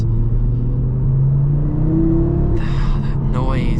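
A 2025 Audi RS3 Carbon Black engine drones loudly while driving, its pitch climbing steadily as it revs, with a sharper burst of higher engine noise near the end.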